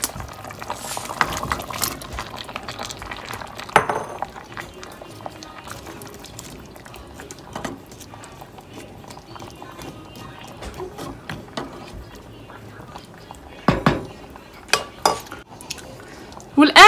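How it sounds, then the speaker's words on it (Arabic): Potatoes go into an opened pressure cooker with scattered metallic clunks and clatter from the pot and utensils, some loud knocks near the middle and end over a quiet kitchen background. "والان من بعد ما فتحنا الطنجره ديال الضغط غادي نضيف البطاطس."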